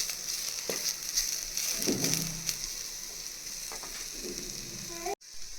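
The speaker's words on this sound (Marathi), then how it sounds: "तर या ठिकाणी आपला कांदा छान असा लालसर भाजत आलेला आहे आणि आपण हे मातीच्या भांड्यात करत आहोत" Onion frying until reddish in a clay pot over a medium-low flame, a continuous soft sizzle with occasional stirring scrapes and a sharp knock near the end.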